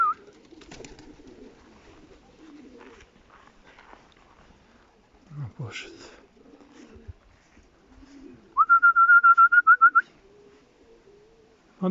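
Soft low cooing from young racing pigeons drifts through a quiet outdoor scene at a pigeon race release, interrupted by a brief rapid pulsing whistle-like sound near the end.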